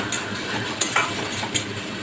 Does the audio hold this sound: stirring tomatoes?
yes